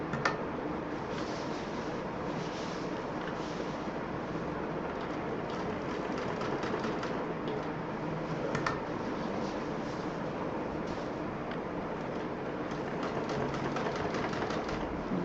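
A sewing machine steadily stitches a belt onto a handmade multi-utility bag, running in a continuous fine rattling whir at moderate volume with no talk.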